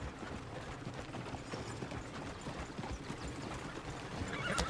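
Horse hooves clip-clop softly at a steady pace with a faint whinny in Red Dead Redemption 2, a quiet in-game western scene without talk.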